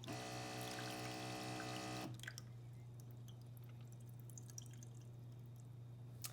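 A Baby Brezza Formula Pro Advanced dispenses water, starting with a loud, tonal machine whir that stops after about two seconds, then trickling and dripping water over a steady low hum.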